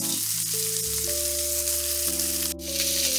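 Beef smoked sausages crisping in a pan give off a steady, close hiss and crackle under sustained background music, with one brief sharp burst near the end.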